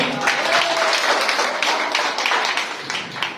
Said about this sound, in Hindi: तालियां हो जाए एक बार।